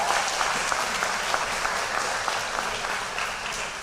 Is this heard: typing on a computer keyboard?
no